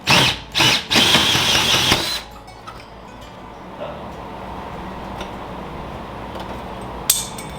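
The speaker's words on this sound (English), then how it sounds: "We wanna just drill through the skin on the inside" A power drill with a 1 3/8 inch bit bores through the inner skin of a kegerator in two short loud whirring bursts, then a longer run. Softer scraping and clicks follow.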